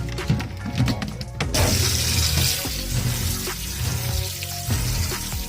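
Tap water runs steadily over wild blackberries being washed in a strainer, a fairly loud, continuous rushing splash with small clatters near the start, and no one speaking.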